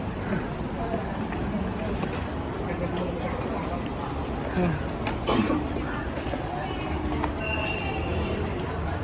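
A Kuala Lumpur MRT metro train rumbles along with steady rolling noise and faint squeals, while people talk through much of the ride.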